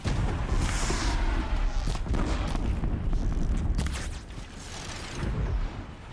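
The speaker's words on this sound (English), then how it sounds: "And that explosion just aggroed everything." An explosion goes off in Horizon Zero Dawn amid loud, rumbling game combat: a dense wash of booming, crackling blasts and mechanical clatter that stays heavy throughout, briefly dipping before swelling again.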